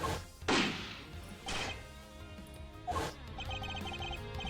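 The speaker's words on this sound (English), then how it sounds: "If you listen carefully, you can hear that the bullet hit something too." Bullet impacts from a recorded tape in an Ace Attorney Investigations 2 courtroom scene: three heavy smashing thuds spaced about a second apart, the first loudest, over a low murky background with no speech.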